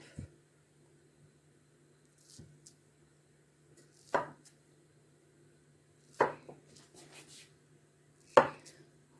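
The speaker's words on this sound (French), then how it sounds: "pour montrer de près la découpe des beaux losanges" A knife cuts makroute, a semolina pastry filled with date paste, into diamonds, giving four distinct, spaced chopping taps against a board, close and fairly quiet with faint handling noise between strokes.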